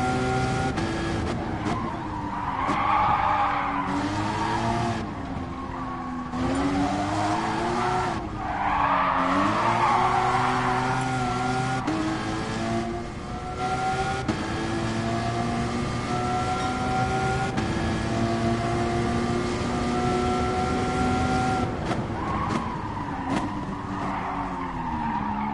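A Porsche in a PS4 racing game revs hard through shifting engine tones while tires skid and squeal repeatedly, a loud, continuous run of rising and falling pitch with bursts of screeching between gear changes.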